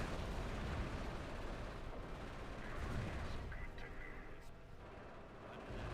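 Anti-tank gun and other heavy weapons fire in a war video game, heard as dense rumbling booms and gunfire in a busy battle mix, with someone talking over part of it.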